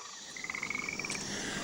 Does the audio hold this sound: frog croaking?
yes